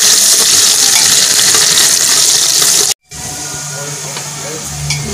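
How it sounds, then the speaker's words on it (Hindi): Cumin and fennel seeds roasting in a hot pan for veg pulao, a loud hissing sizzle that cuts out briefly, then resumes more softly with faint crackles. "और जीरा डालेंगे, सौंफ डालेंगे, थोड़ी देर इन्हें भून लेंगे।"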